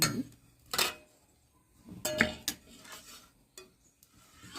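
Goat head curry is ladled from a pot into a metal bowl, with a few sharp, close clinks and scrapes of a spoon against the vessels, separated by quiet gaps.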